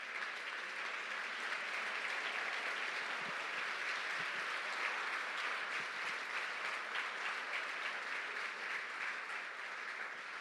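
Sustained applause from a church congregation, many hands clapping in a thick, continuous wash that stays loud without a break.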